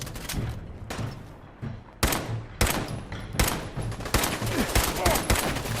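Gunfire rattles through a Fallout game battle: repeated sharp shots and short bursts crack out at irregular intervals, loud and close, with dull thuds between them and no voices.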